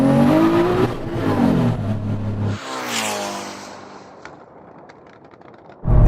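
A Nissan Safari's engine revs hard at a drag launch, a loud rising roar that climbs in pitch and then cuts away, leaving faint background noise before another burst at the end.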